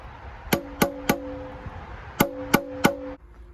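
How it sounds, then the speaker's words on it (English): A hammer strikes metal in two sets of three light taps, seating a socket onto a valve cover gasket on a 2003-2007 Honda Accord, each hit ringing briefly with a bright metallic tone, close and clear. "you're gonna use a hammer, make sure it's lined up with the gasket, and give it light taps"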